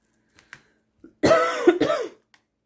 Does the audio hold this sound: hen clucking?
no